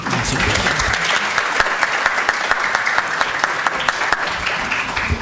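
Loud, sustained applause from an audience at a university criminal law lecture, greeting the dean; dense clapping with a few sharper individual claps standing out, no voices.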